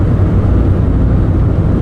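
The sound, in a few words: road traffic passing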